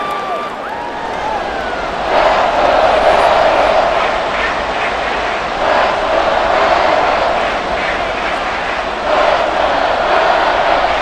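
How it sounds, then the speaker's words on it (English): Stadium crowd in a Madden NFL 24 simulation of the Denver Broncos versus the Detroit Lions roars as a steady, loud, dense wash that swells and holds throughout, with no clear talking over it. "This crowd turning up the decibel level."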